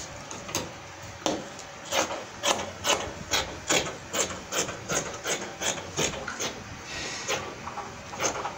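Repeated rhythmic scissor snips cutting fabric for a pleated short gown, about a dozen crisp close cuts at a steady pace with no talking.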